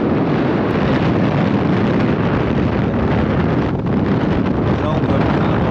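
Strong wind gusts buffet the microphone aboard a sailboat, a continuous loud roaring rumble that swamps everything, with a voice barely present beneath.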